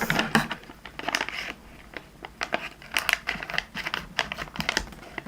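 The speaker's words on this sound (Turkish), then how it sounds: "O yüzden makas yardımıyla açacağız." Scissors snip and crinkle through the packaging of a surprise package with My Little Pony squishy pops, Minions and Furby Boom toys, giving irregular close clicks and rustles.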